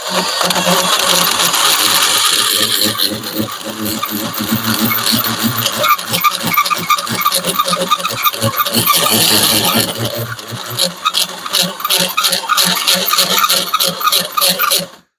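A drill with a bent bit bores through the metal of a fabricated Hemi intake manifold, a loud continuous whine with rapid chattering and rattling that falters near the end, close up.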